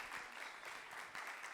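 Brief applause from an audience at a panel on women in football, a short burst of clapping with uneven swells.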